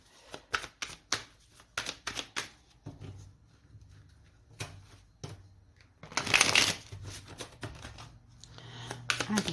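Tarot cards being cut and laid out for a reading: close, crisp bursts of card shuffling and slapping in quick irregular runs, with a denser flurry of riffling midway and brief quiet gaps between handfuls.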